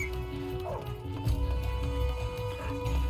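A dog in the Metal Gear Solid 3: Snake Eater video game whimpers and yips in short, close, high whines over game music and ambience.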